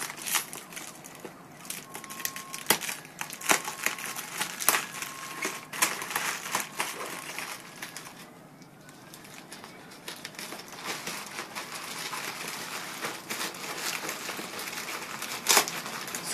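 A parcel wrapped in large-bubble bubble wrap and tape is unpacked by hand for a PIPO M9 tablet. Steady close crinkling, rustling and crackling runs throughout, with sharper snaps and tape rips scattered through it and no speech.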